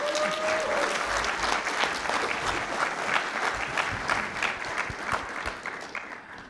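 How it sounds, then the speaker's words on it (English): A room of attendees at a Star Wars toy collecting talk claps steadily and fairly close for a speaker, the sustained round of applause holding an even level throughout. "So please give a round of applause for Dave Tree."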